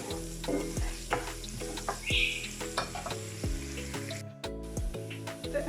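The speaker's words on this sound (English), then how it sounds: "Mix this and allow it to cook until golden." Onion and chilli frying in a pan, a steady sizzle punctuated by regular metallic clinks and scrapes of stirring, close and fairly loud with a short dropout partway through.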